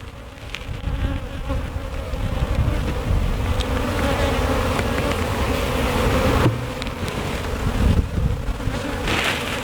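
Honey bees swarm and buzz around an open spring hive full of honey, pollen and brood, a dense continuous drone close to the ear with no voices.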